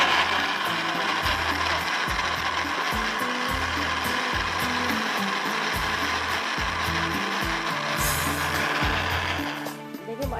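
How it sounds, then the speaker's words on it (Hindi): An electric blender grinds tomatoes, yogurt and green chillies with a little water: a continuous mechanical whir with a regular chopping pulse, which winds down near the end. "देखिए माशाल्लाह कितना तेज़ इसका ब्लेड है, जो फ़ौरन एकदम से पीसा गया।"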